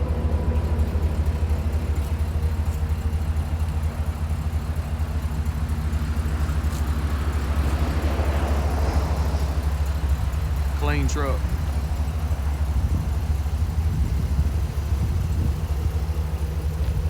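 A Chevrolet 3500 dually truck with a crane body idles in a low, steady rumble throughout, while someone talks over it.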